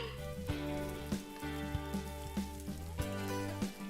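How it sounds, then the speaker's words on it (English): A frying pan sizzles in a video game kitchen, a faint steady crackle lying under quiet background music with soft chimes, no voices. "The frying pan sizzles in the background"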